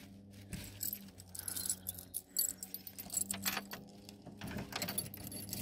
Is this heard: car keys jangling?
yes